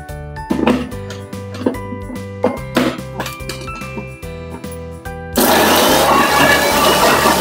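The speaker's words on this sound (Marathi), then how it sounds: "मिक्सरच्या भांड्यामध्ये कोथिंबीर, 2 हिरव्या मिरच्या, पुदिन्याची पानं घेऊन तर पुदिन्याची चटणी बारीक करून घेऊ" A mixer grinder runs in short bursts and then in one loud steady whirr, blending coriander, green chillies and mint leaves into a mint chutney.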